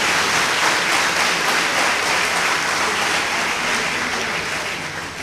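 A crowd at a regional Marathi literary conference's poetry gathering in Warananagar gives loud, sustained applause for Dr. Vishwas Patil, a thick, close roar of many clapping hands that tapers slightly toward the end.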